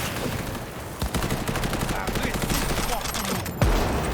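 Rapid bursts of gunfire from a firefight in Cyberpunk 2077 Phantom Liberty crackle nearly without pause, with one heavier shot near the end.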